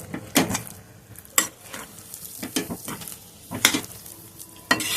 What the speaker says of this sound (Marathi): थोडी बारीक चिरलेली कोथिंबीर मिक्स करायचं